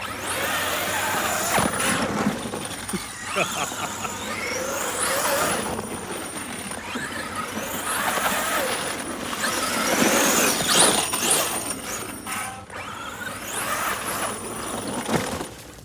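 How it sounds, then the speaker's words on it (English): A K8s Beast 1000 RC car spins its tires and breaks traction, whining motor and squealing tires rising and falling in repeated bursts at moderate distance, with no voices. "Been trying to get it, but the tires are just breaking free."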